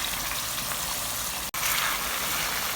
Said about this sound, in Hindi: हाई फ्लेम पे इसको हमने भूनना है।